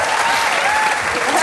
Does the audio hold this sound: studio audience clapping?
yes